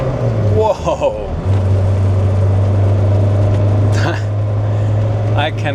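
The twin-turbo V8 of a 1998 Lotus Esprit hums as a deep, steady drone close behind the cabin while the car is driven, with an excited voice talking over it.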